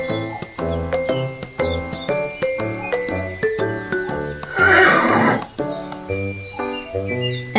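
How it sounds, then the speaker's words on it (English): A horse neighs loudly from a farm-animal flashcard toy, a long bright whinny with jingly, clip-clop-like accents running through the whole stretch, with no talking over it. "It's a horse."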